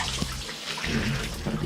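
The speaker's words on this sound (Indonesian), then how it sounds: "lalu kemudian kita bilas joran yang sudah kita bersihkan dengan sampo joran Star ini" Water runs steadily from a tap or hose over a fishing rod being rinsed clean after washing with Star rod shampoo, a continuous close splashing wash with no talk.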